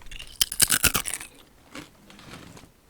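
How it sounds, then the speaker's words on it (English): Loud, close crunching and chewing of Aldi Specially Selected butter corn crisps: a dense burst of sharp crunches in the first second, then a few fainter chews trailing off. "But yeah, these have got some major crunch."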